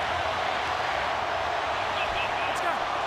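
A packed stadium crowd at an NRL rugby league finals match roars in a dense, steady wall of noise, with a commentator's voice faint beneath it.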